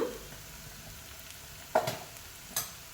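Garam masala and turmeric fry for a paneer curry, a faint, quiet sizzle broken by a couple of sharp spoon taps against the pan, with no talking.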